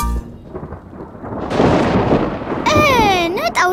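Cartoon rain and thunder, a low rumbling boom that swells into a steady wash of rain, followed by a child's wailing cry near the end.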